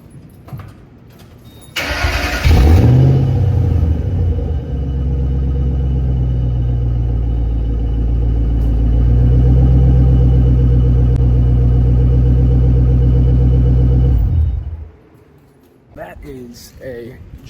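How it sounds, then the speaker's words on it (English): A Ford Mustang with a JBA catback exhaust cranks and fires up in an apartment lot, a sharp starter burst flaring into a deep rumbling idle that holds steady and loud before cutting off; a voice speaks briefly at the end. "let y'all listen to the exhaust."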